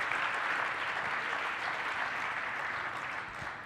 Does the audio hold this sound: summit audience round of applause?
yes